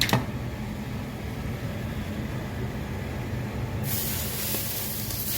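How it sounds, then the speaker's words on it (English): Cabbage sizzles in hot fatback grease in a pan, a steady, close hiss of frying that brightens and grows louder near the end, with no talking. "See the sizzle, guys?"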